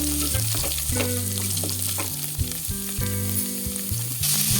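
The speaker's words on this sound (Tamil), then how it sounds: "பெரிய வெங்காயம் கட் பண்ணி வச்சுருக்கோம் அதையும் இதோடு சேர்த்துடலாம் சேர்த்துட்டு ரெண்டையும் சேர்த்து நம்ம வந்து வதக்கி விட்டுடலாம்" Chopped onions sauté in a hot pan with a loud, continuous sizzle and crackle, broken up by occasional stirring scrapes.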